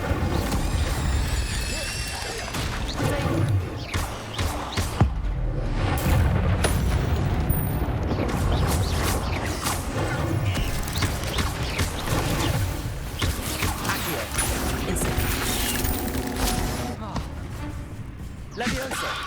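Levioso and Incendio spells cast in the video game Hogwarts Legacy burst out as repeated loud booms, crashes and whooshing blasts in rapid succession, layered over continuous battle noise with a voice talking throughout.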